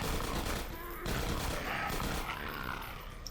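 Gunfire in the video game Half-Life 2 Episode 1, a dense, loud volley of shots running continuously throughout, with no clear gaps between bursts.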